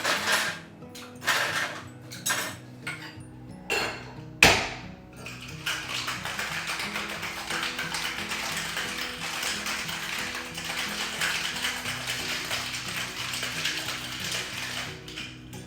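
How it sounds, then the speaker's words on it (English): Whiskey sour with egg white dry shaken in a cocktail shaker: a few separate knocks and rattles give way to a steady, continuous rattling shake that holds loudly to the end. "As I'm using egg white, I'm gonna be dry shaking it first."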